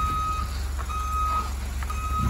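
A GM 4x4 truck backing up, its reversing alarm sounding steady repeated beeps over a low, constant engine rumble, with no voices.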